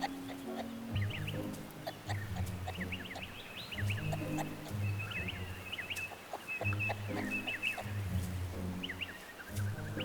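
Young male kangaroo clucking as he follows a female, soft repeated clucks near and steady over outdoor bush ambience with birdsong, under narration.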